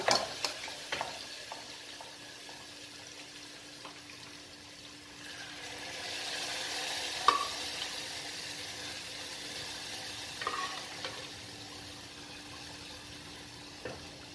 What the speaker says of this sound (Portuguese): E agora eu vou acrescentar o feijão.